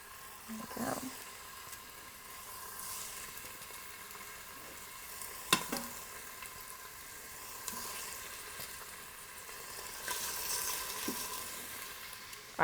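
Tuscan spaghetti ingredients fry in a quick cooker's heated inner pot, giving a continuous sizzling hiss punctuated by a few clinks and scrapes of stirring, fairly quiet and close.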